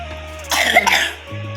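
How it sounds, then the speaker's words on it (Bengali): One short, harsh cough bursts out close by indoors over a quiet steady hum, lasting under a second. "কাশি হচ্ছে"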